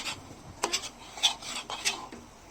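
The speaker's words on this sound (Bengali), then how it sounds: "এখন কিশমিশগুলোকেও ভালো করে নেড়েচেড়ে জর্দার সঙ্গে মিশিয়ে নিচ্ছি" Raisins being stirred into shahi zarda, a sweet rice dish, in a pot: a few soft scraping rasps of a spoon against the pot, faint and close, with quiet gaps between strokes.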